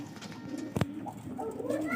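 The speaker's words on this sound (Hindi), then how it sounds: "ये भाईजान इनका फिरोजपुरी कबूतर है" A Ferozpuri pigeon coos once, a short low throaty note close by, over faint background rustle and hum from the surroundings.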